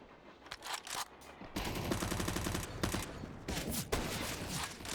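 Gunfire in a Counter-Strike match with scout sniper rifles in play, rapid bursts of shots with dense rattling stretches and short gaps, loud and close, with scraping movement between volleys and no talk.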